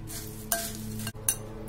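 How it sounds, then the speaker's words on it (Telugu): Puffed rice chaat with salt and lemon juice being stirred together in a bowl, giving two short close scraping rustles over a low steady kitchen hum. "ఇవన్నీ మిక్స్ చేసుకున్నాము."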